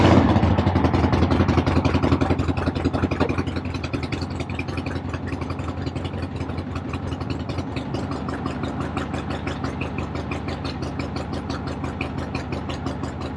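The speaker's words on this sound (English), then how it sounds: "Turn the key on, give it about a quarter throttle, then it usually fires." A rat rod car engine sputters to life and settles into a rough, loud, lumpy idle with a steady rapid pulse and mechanical clatter, heard close with no talking.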